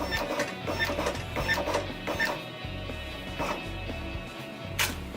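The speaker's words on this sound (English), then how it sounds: "I'm going to send print and encode 5 tags." A Zebra RXi4 barcode printer prints and encodes five RFID labels in sequence, giving continuous mechanical whirring and clicking with repeated feed pulses, close and steady throughout.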